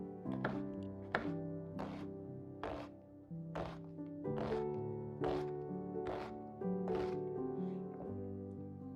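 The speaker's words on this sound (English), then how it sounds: "We'll start by chopping up 1 onion." An onion being chopped on a board with a knife, about a dozen close, firm thunks at an uneven, unhurried pace, each a short knock with a brief ring.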